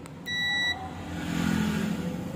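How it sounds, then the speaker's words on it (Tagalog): A multimeter's continuity buzzer gives a single short electronic beep, steady and clear, while checking a TV for a short, followed by low humming background noise. "Buzzer muna tayo, check natin kung may short."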